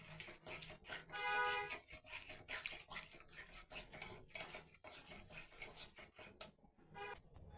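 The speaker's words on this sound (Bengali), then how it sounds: "নাড়তে থাকবো, ঘি উঠাবো।" Scraping and stirring in a kadai (wok) while cooking ghee, rhythmic rasping strokes of a utensil against the metal pan, close and fairly quiet, with uneven pauses between bursts.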